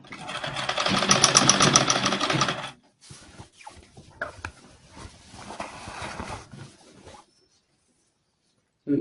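A sewing machine stitches box pleats on a blouse in a fast, steady mechanical whir for almost three seconds, then stops. Scattered handling clicks and rustles follow.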